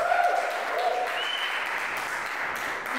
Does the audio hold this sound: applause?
yes